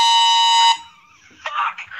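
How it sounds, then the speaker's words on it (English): A loud, sustained air horn blast sounds close up for under a second, cuts off, and is followed by a person shouting in reaction. "It's an air horn."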